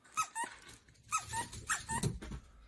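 A dog lets out a quick run of sharp, high-pitched yaps and squeaky barks in two bursts, faint and somewhat distant, with no voices.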